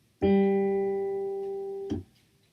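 A single piano note, G, struck once and left ringing with a slowly fading tone for nearly two seconds before being damped, alone in a quiet room.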